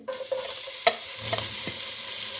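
Grated carrots frying in desi ghee over a high flame, a steady close sizzle with a few spatula scrapes and stirs, no voices.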